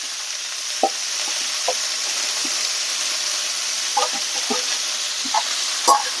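Vegetables and curry leaves stir-fry in a hot pan for a South Indian poriyal, giving a steady close sizzle with scattered scrapes and clicks from the stirring spoon.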